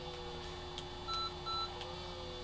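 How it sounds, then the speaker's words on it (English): Repeated electronic beeps from the ZX Spectrum racing game Super Monaco GP, two clear short tones standing out over a steady hum of game sound. "What is that fucking beeping?"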